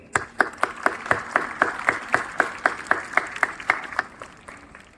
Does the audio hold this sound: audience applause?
yes